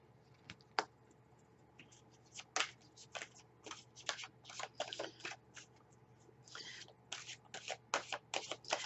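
Angel oracle cards being shuffled for a reading: a quiet run of crisp riffling flicks and soft slaps, irregular bursts up close, with no voices.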